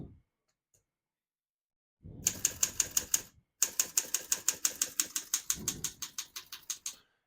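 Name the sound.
typing on a 1935 Underwood Universal portable typewriter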